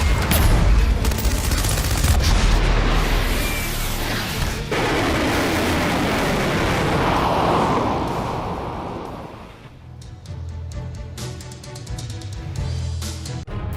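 Military drills on the Tibetan plateau bring heavy booms and rolling gunfire, loud and dense at first, then giving way to sharper scattered bursts and rattling shots.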